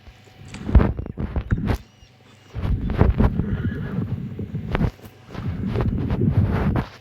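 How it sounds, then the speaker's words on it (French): Horses in a video game neigh and whinny several times at close range, with clip-clop hooves and light shuffling steps between the calls, plus a little wind noise. "Je t'expliquerai comment guider les chevaux."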